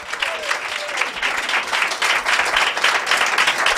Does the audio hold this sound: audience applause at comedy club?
yes